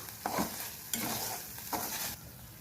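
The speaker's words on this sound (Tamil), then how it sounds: "இப்ப நம்ம இது எல்லாத்தையுமே நல்லா மிக்ஸ் பண்ணிக்கலாம்." Kesari with sugar, roasted cashews and raisins is mixed in a pan, soft scraping stir strokes repeating about every three-quarters of a second over a low, quiet sizzle.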